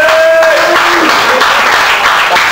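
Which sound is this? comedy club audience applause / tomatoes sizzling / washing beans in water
comedy club audience applause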